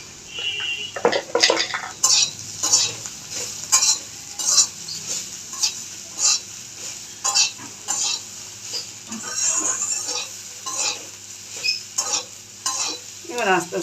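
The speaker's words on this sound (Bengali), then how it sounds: "এবার আস্তে আস্তে ভাজাটা হোক।" Bitter gourd (karela) slices fry in a pan with turmeric, a steady sizzle broken by repeated scraping strokes of a spatula stirring against the metal, close and continuous with no talk.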